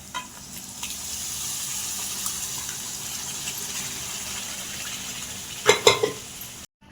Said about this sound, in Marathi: आपण जे शिजवून घेतलेला डाळ आणि भोपळा आहे ते टाकूया